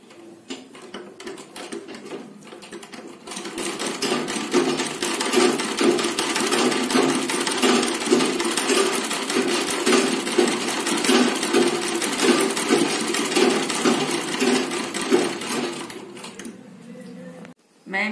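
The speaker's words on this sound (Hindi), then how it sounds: "डिजाइनर ब्लाउज की पक्की सिलाई कर रही हूँ इसकी लेस की।" A sewing machine does firm stitching of lace onto a designer blouse, a rapid continuous mechanical clatter that starts after a few seconds, runs steadily for over ten seconds, then stops abruptly.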